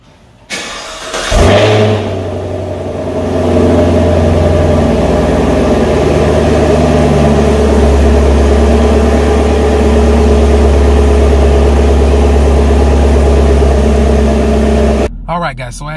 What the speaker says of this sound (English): let's get this cold start